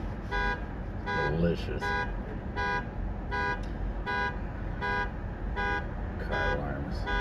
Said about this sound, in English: Car alarms.